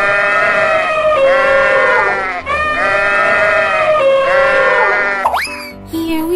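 Repeated sheep bleats in a children's animal-painting cartoon, three long wavering calls in quick succession, loud and close, followed by a brief springy boing effect.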